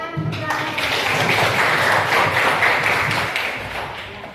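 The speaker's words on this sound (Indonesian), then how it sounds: "Tepuk tangan." Classroom applause as students clap together, a dense burst of hands rising quickly, holding steady, then tapering off over about four seconds.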